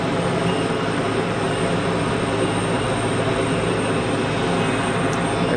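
An Iberia Airbus A320neo pushing back and heading out at Geneva Airport, a steady broad engine roar holding evenly throughout at close range with no voices.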